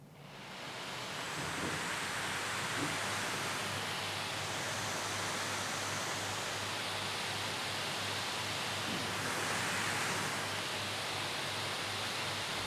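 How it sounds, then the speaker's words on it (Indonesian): A Predator Helios 16 gaming laptop from 2023 runs its fan in max mode, a steady loud rushing whoosh that swells in during the first second and then holds evenly with no talk. "saat ada di mode max-nya, fan-nya nih kerasa berisik banget cuy."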